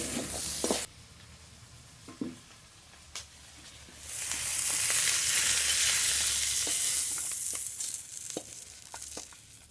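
Large prawns fry in mustard oil in a kadai, with a loud sustained sizzle that swells midway, broken by ladle scrapes and clanks against the pan, close by with no voices.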